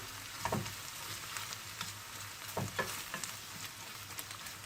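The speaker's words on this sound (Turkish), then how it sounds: "Birazcık salçamızı pişirelim." Tomato paste sizzles and crackles in a hot pan, with soft scraping stirs at intervals, quiet and close, no talking.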